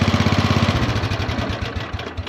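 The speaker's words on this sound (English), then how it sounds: "If you want to kill the engine," A riding lawn mower's engine idles with a steady throbbing pulse, then the rhythm loosens and winds down as it is shut off, close and fairly loud.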